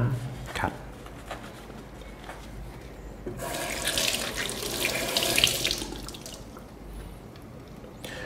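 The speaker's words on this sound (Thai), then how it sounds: "แล้วก็นำมาล้างให้สะอาดได" A removable part of a Hurom H100 juicer is rinsed under a running kitchen tap, and the steady splash of water grows louder midway. Someone talks over the rinsing at times.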